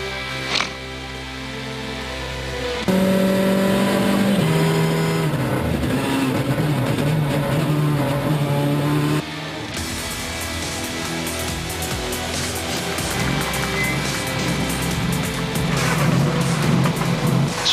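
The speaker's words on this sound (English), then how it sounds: "Great to see the Mini in action." A Mini rally car races flat out along a tarmac stage at a European rally championship event in Austria, its engine loud and close with shifting revs and gear changes throughout, joined by broad road and wind noise.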